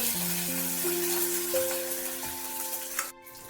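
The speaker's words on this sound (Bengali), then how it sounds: "আমি নুনটা দিতে ভুলে গেছিলাম যার জন্য এত ছেটাচ্ছে আমি এবার কারি পাতা দিচ্ছি" Curry leaves go into hot oil along with mustard seeds, and the unsalted oil spatters, producing a moderate sizzling hiss with faint crackles, close by and with no talk, ending in a brief sharp crackle.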